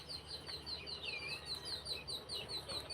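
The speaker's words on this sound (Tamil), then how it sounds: "குருவி சவுண்டை பார்த்தீங்களா" Sparrows chirp in quick, bright repeated tweets at a village in the evening, a continuous run of near, clear calls over low background murmur.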